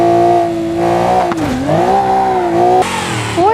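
A Porsche engine revs loudly and close, its pitch climbing, dropping sharply, then climbing again through several throttle blips over a few seconds.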